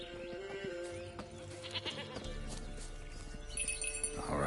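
A stubborn goat in The Witcher 3 gives short bleats amid clopping hooves and droning game ambience, growing louder toward the close.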